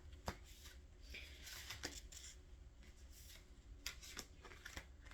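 A Cary-Yale Visconti Tarocchi tarot deck being shuffled by hand, with soft scattered card riffles and slaps close up, faint and intermittent.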